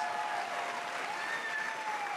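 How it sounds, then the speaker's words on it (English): Audience applause at the Road to Majority conference, steady dense clapping from a large crowd throughout, moderately loud with no talk. "Let's give him another round of applause"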